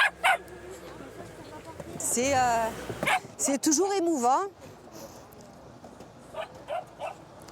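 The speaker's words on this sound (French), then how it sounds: "les voilà, une dizaine de chiens en provenance de l'île de la Réunion" Rescued dogs just flown in from Réunion island barking and yelping in high, wavering calls, with short barks scattered throughout and a French-speaking voice talking over them.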